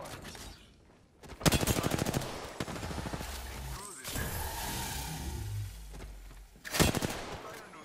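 Gunfire from the video game Predecessor, with loud bursts of rapid automatic fire and scattered single shots over a busy battle mix, with players talking over the action.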